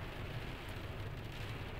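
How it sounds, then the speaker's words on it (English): Steady rain pours down outside a building during a sudden downpour, a dense even hiss with low rumbling beneath, faint and continuous with no voices. "Oh, listen to that. All of a sudden, the rain"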